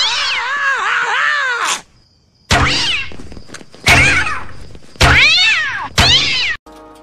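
A cartoon cat yowls and meows loudly in several separate bursts as it is fired from a cat launcher, each cry cut off by a short pause or thunk.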